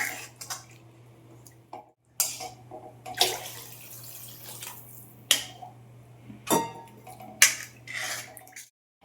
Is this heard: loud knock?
no